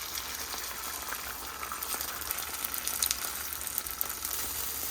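Leftover sauce is poured over tofu in a kitchen, and it sizzles and crackles faintly like liquid hitting a hot pan, with a continuous soft hiss and scattered small pops throughout and no talking.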